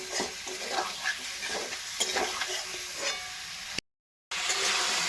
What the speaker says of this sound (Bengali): গ্যাসের ফ্লেমটা লোতে রেখে হালকা করে এটা ভেজে নেব।